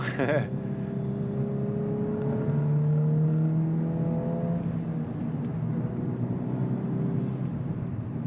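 A Volkswagen Golf R hot hatch accelerating hard through first gear, the engine note climbing in steady sustained harmonics close by with a cabin rumble underneath.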